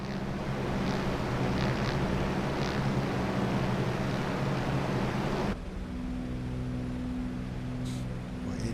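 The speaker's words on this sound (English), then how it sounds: "It is windy up here." Wind buffeting a small twin-engine Cessna 404 air ambulance high over Alaska in a flight simulator, a dense steady rushing roar with low rumble that drops to a quieter engine drone partway through; no talking.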